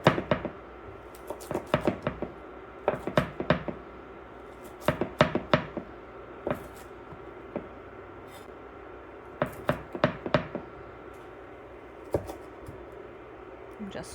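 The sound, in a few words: chopping fresh kale with a knife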